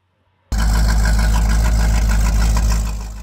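A 1979 Chevrolet Corvette V8 with a freshly installed Fitech fuel injection system and an unfinished exhaust with no mufflers fires up suddenly and settles into a loud, steady, close idle rumble that eases off slightly near the end.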